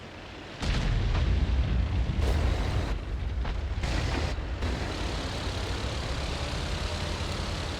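Heavy gun blasts from an SU-130PM tank destroyer firing at a Type 59 in a tank video game: a sudden loud boom, then a sustained rumbling roar of engine and battle noise with a few further thuds.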